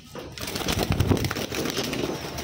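Racing pigeons, including a stamped blue bar bird, coo softly and shuffle close by in a loft, with faint wing flutters and a little background voice.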